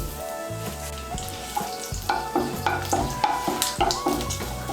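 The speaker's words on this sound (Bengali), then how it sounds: "ফোড়নটা দিয়ে একটু নাড়াচাড়া করে নিয়ে" Whole cumin, cardamom, cloves and a cinnamon piece tempering in hot oil, sizzling and crackling loudly while a spoon stirs and scrapes the pan in repeated strokes, with a faint tonal hum underneath.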